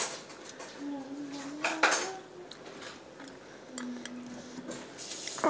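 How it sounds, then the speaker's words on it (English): A fork scrapes and clinks against a plate while trying to cut through a crispy enchilada, with scattered close metallic taps and one sharper burst of scraping, amid faint background voice sounds. "And it's not cutting with the fork."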